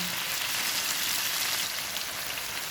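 Chicken malai tawa pieces sizzle steadily on a hot griddle, a dense continuous crackle of frying that stays loud and even throughout with no talk.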